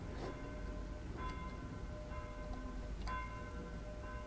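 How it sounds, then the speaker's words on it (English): Church bells ring outside at a distance, a few faint, spaced strikes with lingering tones over quiet indoor room noise. "Can you hear the bells ringing?"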